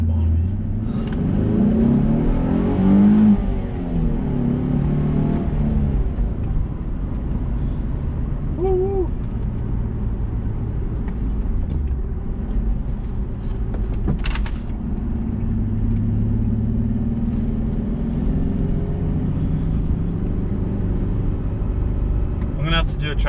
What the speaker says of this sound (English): And there's a car coming up behind me.